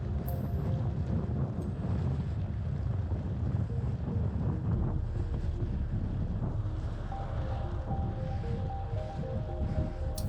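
Steady, loud wind buffeting the microphone while cycling with a tailwind at night along narrow paved roads across flat marshland behind a dike near the North Sea; a continuous low roar runs throughout with no pauses.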